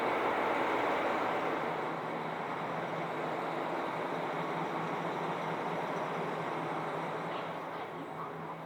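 A steady low rumble and broad whoosh heard from inside a winter train bound for Wakkanai as it departs and rolls along, continuous and fairly even, slowly easing off toward the end.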